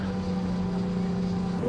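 Steady droning engine hum of a motorboat on the sea in Lofoten, Norway, with wind and water noise, constant and fairly close throughout.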